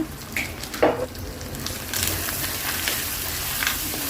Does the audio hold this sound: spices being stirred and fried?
yes